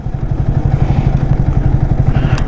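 A Yamaha R15 V3 or Hero Xtreme 160R motorcycle runs hard during a drag race. Its engine throbs in a steady, fast low pulse that stays loud and close throughout, with no talking.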